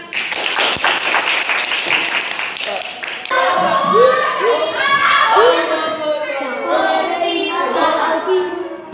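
A junior high school class in Indonesia claps together after a storytelling lesson, a dense burst of hand claps at the start giving way to children's excited voices and shouts filling the room.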